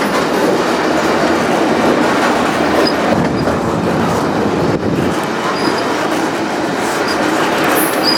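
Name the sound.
freight train riding on tracks near the engine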